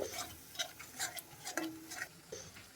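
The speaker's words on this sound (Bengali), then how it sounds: "সব কিছু মিশিয়ে আবারও মশলাটা থেকে তেল ছেড়ে বেরিয়ে আসা অবধি কষাবো" Bengali-style spiced masala for an egg kosha curry is stirred and sautéed in oil in a pan, with soft, irregular scraping strokes and a faint background sizzle, quiet and close with no talking.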